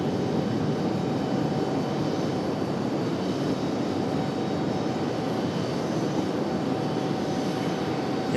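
Delta Airbus A319-100 jet departing RDU airport, a steady broad roar of engine noise holding at a moderate distance throughout, without any voices.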